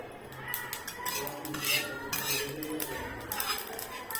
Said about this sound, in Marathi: असं चटचट वाजे सगळे आपलं भाजले म्हणून कारळ टाकलं